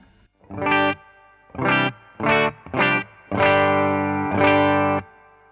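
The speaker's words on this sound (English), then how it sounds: "So you can hear some reverb there. That's coming from the amp." Clean electric guitar chords strummed in separate bursts through an amp with its own reverb, the last one ringing out longer, with a roomy reverb tail after each strum.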